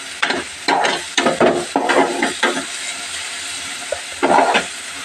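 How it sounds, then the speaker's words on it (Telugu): Masala spices fry in a pan with bursts of sizzling, stirred in short repeated strokes, loud and close with brief quieter gaps between stirs. "ఇంకోసారి బాగా ఫ్రై చేయాలి ఈ మసాలా అంతా"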